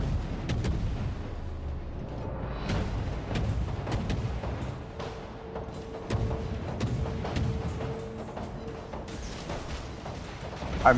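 Naval guns firing shells in a ship combat video game, Hsienyang, heard as a dense run of sharp booms and cracks over a steady rumbling battle bed, with a faint tonal hum running midway.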